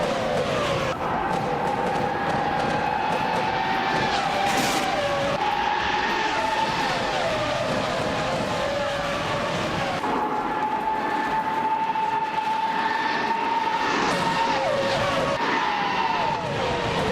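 Race cars in a racing video game lap Interlagos, with a 1996 Williams among the AI field: a steady, loud engine whine with shifting tonal pitch and tire skidding runs continuously throughout, no talk.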